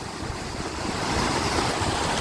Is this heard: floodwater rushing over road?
yes